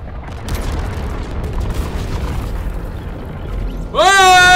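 A Fortnite season 10 rocket launch in-game: a broad rumbling roar that builds steadily, then a loud rising whoosh with a ringing tone takes over at the end.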